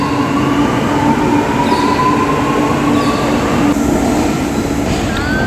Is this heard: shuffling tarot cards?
no